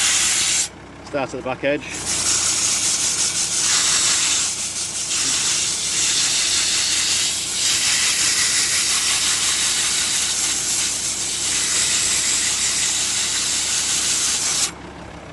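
Emery cloth scrubbing rust off the brake disc of a Volvo C30, a steady, close abrasive rasping hiss that runs almost unbroken for about thirteen seconds, with a few words spoken briefly at the start.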